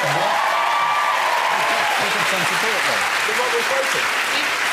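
Sustained, loud applause from a studio audience at a British comedy panel show, filling the whole stretch steadily, with voices talking beneath it.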